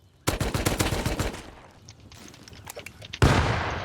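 Rapid automatic gunfire rattles in a dense burst in the survival game Rust, fades into scattered distant shots, then a loud blast or heavy burst erupts at the end.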